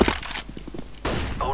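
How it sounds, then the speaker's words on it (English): A flashbang grenade detonating in a multiplayer shooter video game, a short sharp burst followed by a thudding, rattling tail and a second loud hit near the end, close and fairly loud. "Flashbang."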